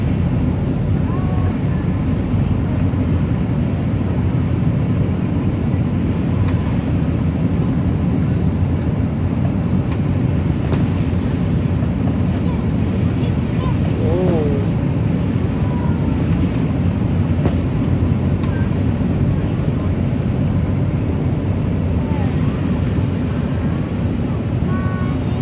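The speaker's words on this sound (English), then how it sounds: "already got our flaps down. We're gonna land soon." Inside a Delta Airbus A320-214 cabin on landing approach with flaps down, a steady loud roar of engine and airflow noise fills the space, with faint voices now and then.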